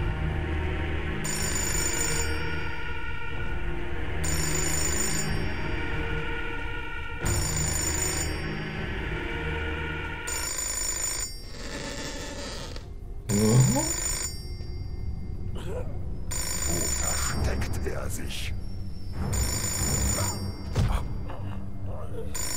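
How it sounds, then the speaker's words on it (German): Telephone in the video game Fahrenheit rings in repeated even bursts, loud and near, over a low game background, followed by thumps and other in-game movement noise. "Ich gehe nur schnell ans Telefon."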